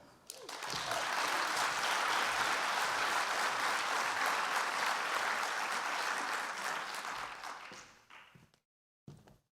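Sustained audience applause at the Code4Lib 2018 conference welcoming a keynote speaker, a dense wash of many hands clapping that holds steady for about eight seconds before thinning out to a few scattered claps.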